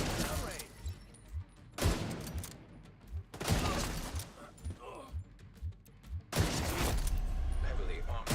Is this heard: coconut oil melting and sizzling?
no